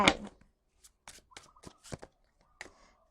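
Tarot cards being shuffled by hand, a burst of riffling followed by several short, separate slaps and flicks with quiet gaps between them, heard close and faint.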